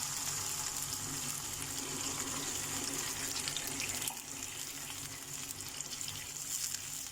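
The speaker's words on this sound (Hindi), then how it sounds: "एक कप पानी हम इसमें ऐड कर रहे हैं कि चिकन अंदर तक अच्छे से टेंडर हो जाए" A cup of water poured into a pot of sizzling khada masala chicken, a continuous hissing splash and bubbling that runs steadily, loud and close, easing slightly toward the end.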